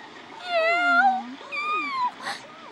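A cartoon cat cries in an anime, giving two drawn-out, wavering meows that bend up and down in pitch, loud and close with a short gap between them and no talk over them.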